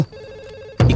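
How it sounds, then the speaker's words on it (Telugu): A brief electronic phone ringtone sounds steadily, then is cut off by a sudden loud burst of noise. "ఇక్కడ పక్కన రింగ్ అవుతుంది"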